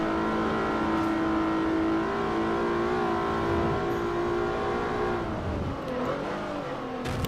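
In Forza Motorsport 4, a Renault Clio race car's engine howls in a sustained, close harmonic whine, pitch climbing steadily, then dipping and wavering through shifts toward the end, with no one talking.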